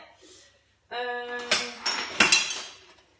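Metal cutlery clatters and rattles in a drawer while someone rummages for a spoon, with a few sharp jangling bursts after a quiet start.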